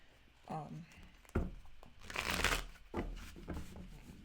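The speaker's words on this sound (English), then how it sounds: "this is 132 Oracle cards here, and they're kind of hard to shuffle" A thick deck of 132 oracle cards is shuffled by hand in several riffling, slapping bursts, close up, while a person talks softly.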